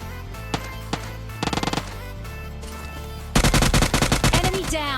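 PUBG Mobile Lite gunfire finishing off a knocked enemy: a few single shots, then a short rapid burst, and finally a loud sustained automatic volley near the end, close and sharp.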